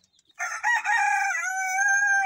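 A young black crossbreed rooster with silky-looking feathers crows once, close and loud, in a drawn-out call lasting about two seconds.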